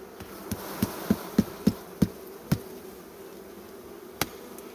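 A soft hum of honeybees in a hive in winter drones in the background while a series of sharp knocks taps out a quick rhythm, followed by one more knock after a pause.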